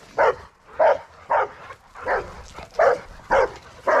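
Several dogs at outdoor kennels bark in a steady, evenly spaced series of sharp, loud barks close by, with faint whimpering between them.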